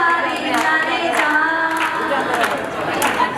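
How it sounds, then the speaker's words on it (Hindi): Audience clapping at a Haldi wedding ceremony: scattered hand claps over steady crowd chatter and music, fairly loud and continuous throughout. "तो इसके लिए अपने को ताली बजा दे।"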